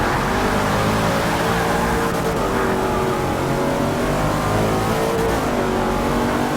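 Shelby Cobra 427 in a Forza 6 race, its engine droning loud and steady for the whole stretch with slight pitch shifts as it holds speed, no talk over it.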